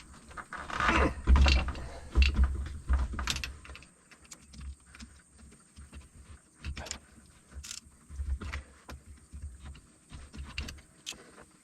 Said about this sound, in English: I got this wrench wedged in between these two hexes there